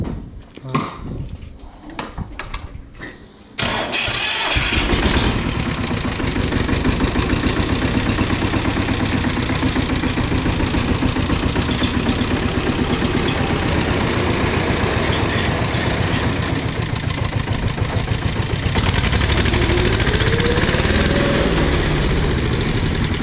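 A Yağmur 510 tractor with a clutch fault, where gears stick and the engine stalls when the clutch is pressed, cranks and starts after a few seconds of clunks and talk, then idles loudly and steadily with a rhythmic diesel chug, rising briefly near the end.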